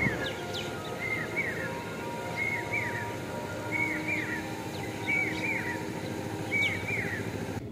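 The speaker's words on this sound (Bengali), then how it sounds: "কোকিলের ডাক শোনা যাচ্ছে।" A cuckoo calls at dawn in a village, its short rising phrase repeated about five times at a steady pace, moderately distant over a constant low background rumble.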